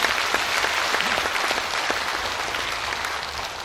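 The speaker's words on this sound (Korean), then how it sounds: "다시 한번 뜨거운 박수 부탁드리겠습니다." Sustained applause from a crowd at an outdoor rally in Incheon, dense steady clapping that stays even and loud throughout, with no talk over it.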